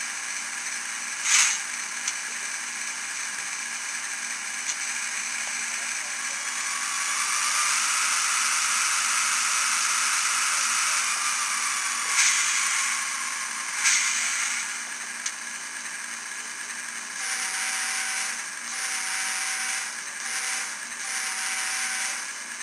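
Electronic locomotive sounds of an SD40-2 from a small speaker on a Digitrax SDN144K1E sound decoder in a Kato ES44AC model: a droning engine hum with pitch shifts, a few short tones and clicks, no voices.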